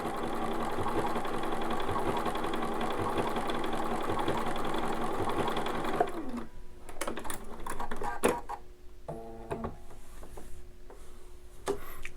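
A Bernina 590 sewing machine runs steadily, stitching a blind hem with a number 5 blind hem foot, a continuous close whir for about six seconds, then stops, leaving only scattered handling clicks and taps.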